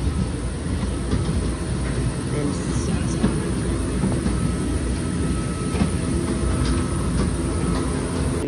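A steady, enclosed engine hum and airy rumble fill an airplane cabin during boarding, with people murmuring and talking nearby throughout.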